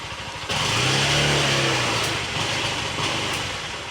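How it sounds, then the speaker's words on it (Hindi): A Bajaj Discover motorcycle with its ignition hot-wired fires on a single kick start and settles into a steady, close, throbbing idle. "ये देखिए सिंगल किक में गाड़ी स्टार्ट।"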